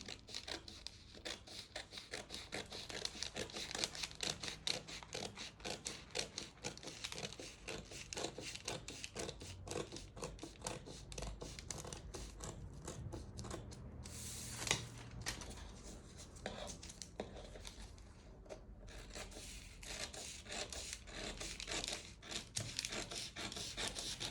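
Paper sleeve pattern, folded on the fold line, being cut with scissors: a long run of steady, quiet snipping and rustling close by, with a louder crinkle midway.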